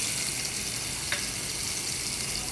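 Coconut pieces fry in ghee in an urli, a continuous close hiss and crackle of hot fat that holds steady throughout, with one faint tap midway.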